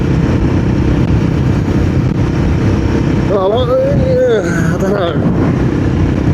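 A Royal Enfield Guerrilla 450 motorcycle with a loud aftermarket exhaust rumbles steadily and close, and someone talks briefly over the engine midway.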